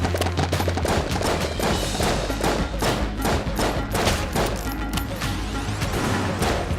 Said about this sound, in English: I only have 4 shots to pick 4 targets